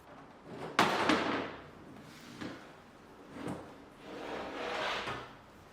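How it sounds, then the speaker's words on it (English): A Bosch dishwasher's cabinet door panel clunks loose with a sharp knock, followed by a few softer bumps and scraping sounds as it is handled and set down nearby. "The cabinet door can then be detached from the dishwasher and placed to one side."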